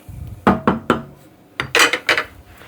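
Spoon stirring broth in a pot for Southern cornbread stuffing: about six sharp scraping clinks in two quick bursts, close and fairly loud, with no talking.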